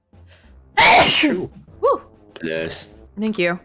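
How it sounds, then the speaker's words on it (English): A single loud, close sneeze bursts out after a brief quiet moment, followed by a few short spoken words from the same person. "Oh, I'm about to sneeze."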